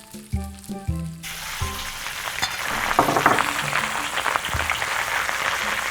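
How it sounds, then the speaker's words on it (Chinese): Minced meat for dan dan noodles drops into hot oil with star anise, bursting into a loud, dense sizzle that continues under quick stirring after a few quiet taps. "肉下锅，快速的给它炒散"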